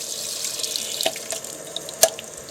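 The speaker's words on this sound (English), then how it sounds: "the water to come out through the pressure relief valve" Water flows steadily out of the pressure relief valve on an Atwood RV water heater, a continuous hissing splash with a few sharp drips and clinks, alone without voices.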